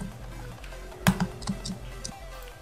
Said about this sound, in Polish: tak napierdalasz tę klawiaturę, że szok